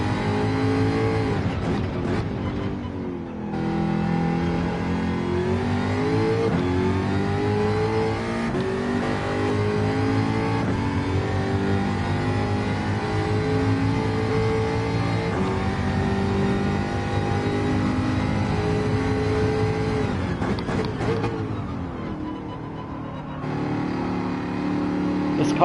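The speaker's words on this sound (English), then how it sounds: "This car is super stiff and it's supercharged, so it's got a ton of power down low" A supercharged race car in Gran Turismo 7 revs hard and continuously, its engine note rising and falling through gear changes and corners, loud and close throughout, with a brief dip partway through.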